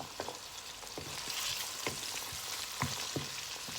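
Fennel seeds and curry leaves sautéing in a pan for crab curry, a moderate sizzle broken by several distinct scraping stirs of the spoon.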